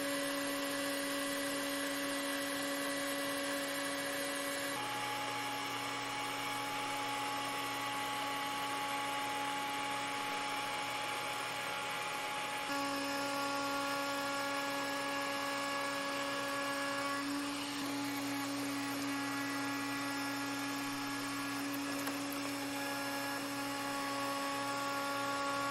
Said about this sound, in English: I cleaned up the remaining material with a router and a spiral downcut bit.